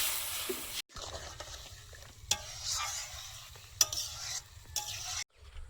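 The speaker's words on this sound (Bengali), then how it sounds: "টকের ঝোলটা ফুটছে" A tamarind sour broth with whole mustard seeds bubbles in a pan, a soft close simmer with sizzling hiss and several sharp clicks and scrapes of stirring. No voices.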